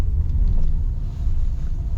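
A 2019 Fiat Panda 1.2 70 Easy idles with its engine running, filling the cabin with a steady, loud low rumble that holds evenly throughout with no talking.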